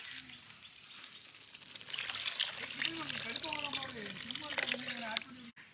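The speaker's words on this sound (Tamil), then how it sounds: "நம்ம தேவையான அளவு தண்ணி ஊற்றிக்கலாம்." Water poured into a prawn thokku gravy cooking in village style, a steady splashing, bubbling wash that swells midway and continues under a running hiss, with background tones and faint activity.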